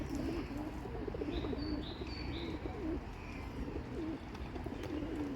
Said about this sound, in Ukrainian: У нас голуби це щось страшне